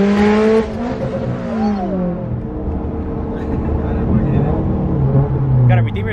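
A big-turbo Subaru STI engine revs and accelerates with a rising, throaty whine, loud and close, with brief voices over the motor.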